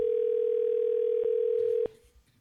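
A steady telephone dial tone sounds alone for about two seconds while a caller is being dialed back, then cuts off abruptly, leaving faint background noise.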